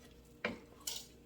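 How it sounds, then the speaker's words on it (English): A spoon stirring soup in a pot, two quick scraping, clinking strokes close by, separated by a short pause in a quiet kitchen. "we'll give it a good stir"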